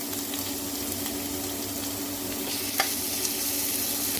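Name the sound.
garlic, onion, curry leaves and dried chillies frying in oil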